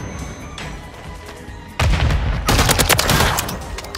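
Loud bursts of automatic gunfire in a Call of Duty Modern Warfare 3 search-and-destroy match, with quieter ambient game sound giving way to dense, rapid shots and cracks.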